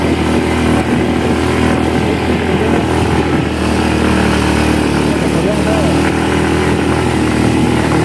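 A motorcycle engine labours continuously while climbing a steep uphill path, loud and close with a droning, rough tone, and someone talks over it.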